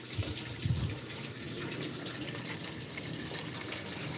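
Clean water flowing through tubes into a filling container outdoors, a steady, continuous gushing and trickling wash of water at moderate volume, heard alone without talk.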